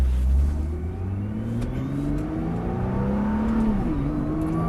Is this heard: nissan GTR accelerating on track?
yes